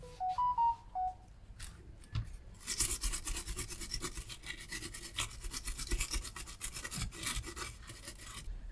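A brush scrubs a retro PC circuit board wet with isopropyl alcohol, producing a close, continuous rasping scrub with fast back-and-forth strokes. A few short electronic beeps sound just before the scrubbing begins.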